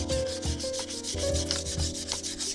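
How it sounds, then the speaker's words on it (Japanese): Steady rhythmic rubbing of a vinyl record being polished by hand, close and continuous with regular back-and-forth strokes and no talking. "ひたすら磨いていきますよ。"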